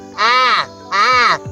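A voice imitates a crow's caw on a studio talk show, two loud, harsh, drawn-out caws separated by a short pause, close and clear.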